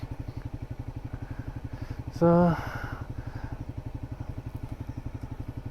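A motorcycle engine thrums steadily and close while the bike is ridden in cold weather, a rapid even pulse throughout, with a brief voice and a short tonal beep partway through.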